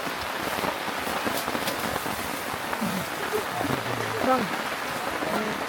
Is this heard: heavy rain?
yes